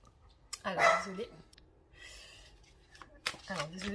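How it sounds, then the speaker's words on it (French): A dog barks indoors in two separate bursts, one early and one near the end, with quieter room sounds in the gap between them. "désolé pour le chien qui aboie."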